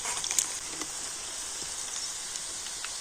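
Pakoras deep-frying in hot oil, a soft continuous sizzle and bubbling hiss with a few sharper crackles early on, heard close and without talk.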